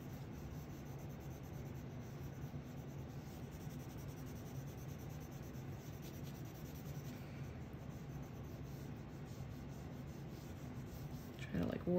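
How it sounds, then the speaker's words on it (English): A blending stump rubs graphite across drawing paper, a faint, steady, soft scratchy rubbing that continues without pause, close up and quiet, with no talking. "And now just use some of that built up graphite on my blending stump"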